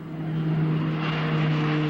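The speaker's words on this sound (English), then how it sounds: "Preparation for taxi and takeoff." An airplane preparing to taxi and take off, a steady engine drone with a strong low hum and rising whine, loud and close throughout, with no voices.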